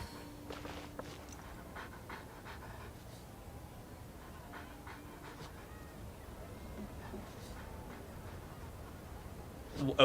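A dog in the video game Genshin Impact pants steadily in quick, soft breaths under faint game ambience and light clicks, with no one speaking.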